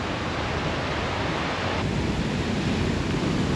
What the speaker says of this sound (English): New stop and we are going to see a new waterfall. On this one we can go through the waterfall.